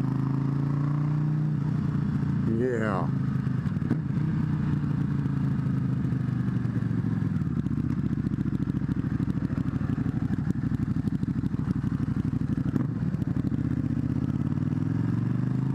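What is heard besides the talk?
Buell 1125CR motorcycle engine running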